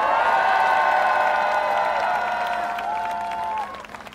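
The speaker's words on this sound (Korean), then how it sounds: "자, 박수 한번 주십시오." A large crowd at an outdoor political campaign rally claps and cheers, a loud sustained roar with tonal whoops and shouts that fades slightly toward the end.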